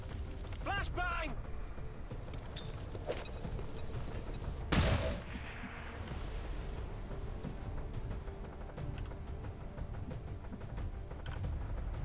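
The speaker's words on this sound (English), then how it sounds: "Flashbang!" A flashbang grenade goes off in the video game XCOM 2 as a sharp burst partway through, amid game mechanism clicks and rattles, with a voice talking over it.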